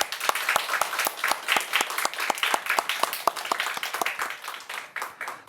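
Church congregation claps enthusiastically in praise during a sermon, a close, lively burst of many hands with distinct rhythmic individual claps standing out over the steady patter.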